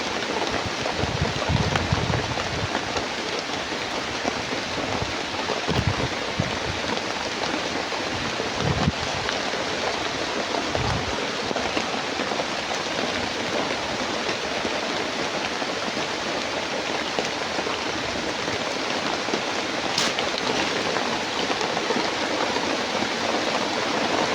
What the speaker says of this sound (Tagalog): nagsisilong lang muna ako dito sa may puno ng saging tol kasi sobrang lakas ng ulan